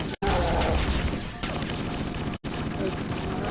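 Sustained automatic gunfire in a sci-fi first-person shooter, a steady dense stream of shots with brief breaks in the middle, fairly loud over continuous battle noise, with speech faintly mixed in.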